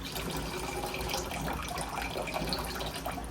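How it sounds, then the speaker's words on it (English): Water pours steadily into a pot for cooking rice in a home kitchen, a continuous close splashing and trickling stream without any talk. "For you guys that enjoy water sounds."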